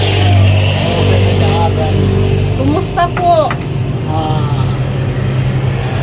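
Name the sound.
road traffic passing beside house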